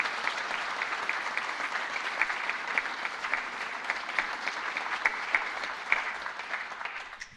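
A seated crowd applauds at a university winter graduation ceremony. The clapping is steady and moderately loud, with individual claps standing out, and it tapers off near the end.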